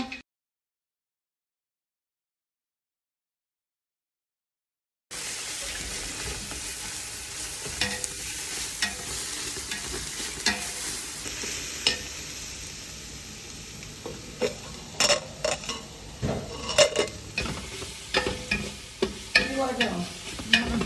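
Onions being stirred as they fry in a pan while biryani is cooked: silence for the first few seconds, then a steady close sizzle with scraping stir strokes and clinks that grow more frequent toward the end.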